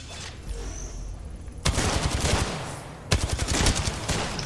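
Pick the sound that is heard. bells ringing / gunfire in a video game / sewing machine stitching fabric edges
gunfire in a video game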